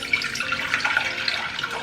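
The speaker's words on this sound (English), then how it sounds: "So carefully pour back all the water inside your jar back to another container" Water pours steadily from a jar into another container during vegetable preparation, a continuous close splashing trickle with no talk over it.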